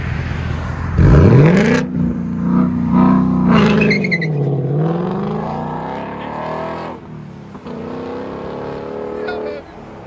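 A car engine starts and revs hard, the active exhaust open and roaring loudly nearby, then rising and falling through several throttle blips before settling.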